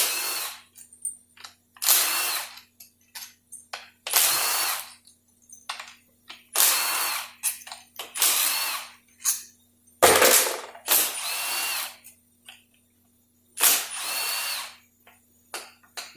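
A power tool runs in repeated short, loud bursts while removing the bolts on a Dodge 46RE transmission during a rebuild, with brief pauses and small clinks between each whir.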